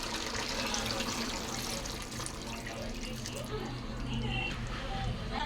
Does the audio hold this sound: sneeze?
no